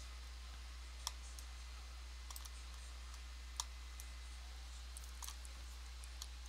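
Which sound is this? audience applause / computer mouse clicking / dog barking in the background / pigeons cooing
computer mouse clicking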